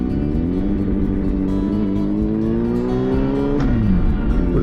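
Riding a motorcycle with a loud exhaust on roads in the North Yorkshire Moors, the engine drones steadily with rising and falling pitch as it revs through gears, close and continuous.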